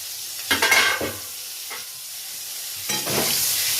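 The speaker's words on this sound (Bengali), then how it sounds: "একটু ঢেকে দিচ্ছি, তাহলে তাড়াতাড়ি ভাজাটা হয়ে যাবে।" Pointed gourd (potol) fries in a pan, a steady close sizzle with bursts of stirring and spatula scraping at the start and again near the end.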